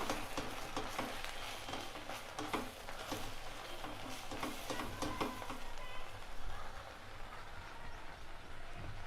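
Garam masala and turmeric fry in a pan for biryani gravy, a soft continuous sizzle with scraping strokes of stirring, fairly faint and close, without talking.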